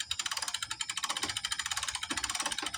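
A pulley on a tilting antenna mast turns as the mast is raised, giving off a rapid, regular ratcheting click that repeats evenly and sits close and clear with no voices.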